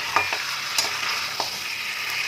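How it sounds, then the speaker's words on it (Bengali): Mutton frying in masala in a pan over a medium gas flame, a steady broadband sizzle with a few sharp scraping stirs, close and fairly loud, with no voices. "রেখে আরও কিছুক্ষণ এখন আমি মাংসটাকে ঢাকা দিয়ে কষবো।"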